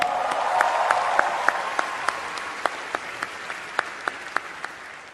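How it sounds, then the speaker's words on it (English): A comedy roast audience breaks into applause, a dense wash of clapping that starts full and steadily thins out, with a few sharp individual claps standing out toward the end. "Huge round of applause."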